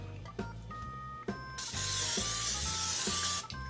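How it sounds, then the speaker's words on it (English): Cooking spray hisses steadily from an aerosol can into a bundt cake pan for a doggie birthday cake, a loud continuous spray lasting about two seconds after a few short clicks and bumps, with no talking. "So first you want to go ahead and spray"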